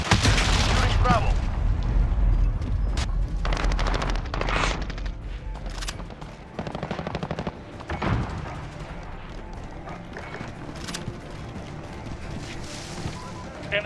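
Rapid gunfire in Modern Warfare 2019 during a multiplayer domination match with an MP7 build, dense bursts and booming shots near and far, while radio callouts and voices talk over the action.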